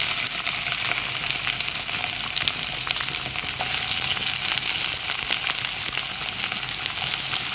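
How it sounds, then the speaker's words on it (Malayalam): Ginger and onion frying in a pan for a beef curry, a loud, continuous close-up sizzle with crackling pops and occasional stirring throughout, no voices. "നമുക്കിനി അത് പാൻ വെച്ച് ഇതിലേക്ക് നമുക്കിതെല്ലാം ഇടാമേ. ഇഞ്ചി ഉള്ളി എല്ലാം കൂടെ നമുക്കതിലേക്കിടാം."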